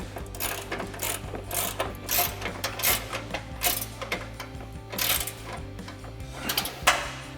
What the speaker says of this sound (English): 18mm ratcheting wrench and our 21mm ratcheting wrench to tighten that down